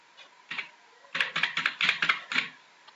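A ration card number is typed on a keyboard in a quick run of about eight crisp key taps, close and clear, after a couple of isolated presses.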